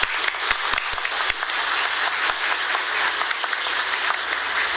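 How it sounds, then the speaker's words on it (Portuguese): An audience at the 7th ISP meeting on net neutrality gives a round of applause for a councillor. Brisk, continuous clapping with some crisp, separate claps at the start holds at an even level throughout. "Gostaria de uma salva de palmas para o conselheiro"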